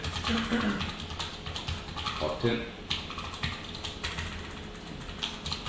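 Someone types on a computer keyboard while coding a React component, a quick run of clicky keystrokes in bursts, close by, with someone speaking over parts of it.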